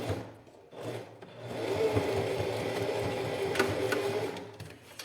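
A sewing machine runs close up, stitching a seam on a cosmetic bag with a steady mechanical whir that starts, builds and holds for a few seconds, then eases off.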